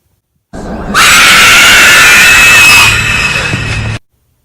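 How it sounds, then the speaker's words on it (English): A strange train engine lets out a huge, violent shriek, a loud sustained high-pitched whistle-like scream that starts abruptly, holds for about three seconds, then eases slightly before cutting off. "the strange engine let out a huge and violent shriek that echoed all over the area"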